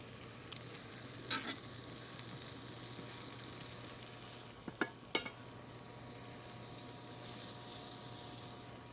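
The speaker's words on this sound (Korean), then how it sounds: "이것이 샬롯과 마늘이 볶여지면요" Shallots and garlic sautéing in butter, a steady soft sizzle under a faint hum, with a few brief stirring clicks and utensil taps midway.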